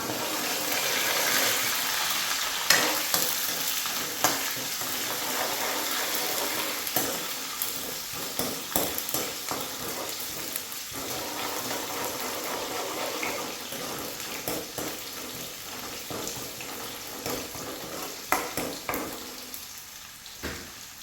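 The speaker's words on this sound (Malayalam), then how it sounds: "ചുവന്നുള്ളി അരിഞ്ഞിട്ട് കൊടുത്തിട്ട് ഇളക്കാം." Chopped shallots fry in hot oil in a pan for beetroot pachadi, a constant sizzle broken by repeated spoon scrapes and stirring knocks, close and fairly loud, with no talk.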